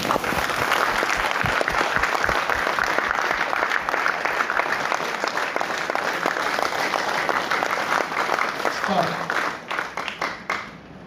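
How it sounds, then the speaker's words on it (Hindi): An audience claps hard and steadily at a training session for Harit Sanjivani products, a dense, loud wash of hand claps that thins out toward the end, with voices mixed in. "जोर से ताली बजाना पड़ेगा"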